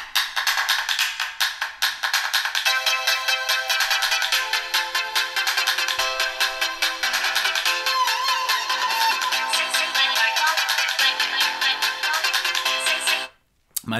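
Ringtone melody from the loudspeaker of a Motorola Moto X 2nd Gen phone, bright, loud and steady for about thirteen seconds before cutting off abruptly.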